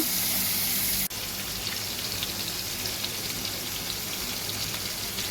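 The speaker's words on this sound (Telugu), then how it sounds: "కొంచెం ఆ బటర్లో వేసుకొని ఫ్రై చేసుకోవాలి" Paneer cubes frying in butter in a pan, giving a steady, dense sizzle that holds evenly throughout, with a brief dip near the start and no voices.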